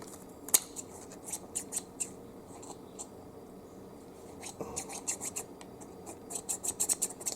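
Garden shears with a freshly sharpened blade snip repeatedly, crisp close cutting clicks in irregular bursts over faint rustling, becoming quicker toward the end.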